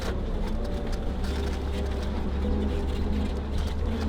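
Military vehicle engine idling and revving outdoors at a solo campsite, a steady low rumble running close and continuous throughout with no voices over it.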